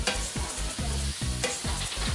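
Onions fry and caramelize in a pan, a close, steady sizzle broken by rhythmic scraping strokes of a stirring utensil, roughly two per second, with no voices.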